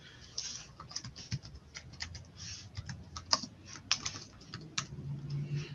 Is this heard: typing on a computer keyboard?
yes